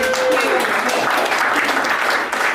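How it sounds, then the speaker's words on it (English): A room of colleagues at a team meeting applauds a woman called up front, sustained loud clapping from a small crowd with a brief whistle-like tone at the start. "Round of applause for Carly."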